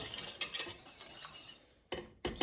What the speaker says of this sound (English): So see how it's boiling? So we want to stir it up a little bit.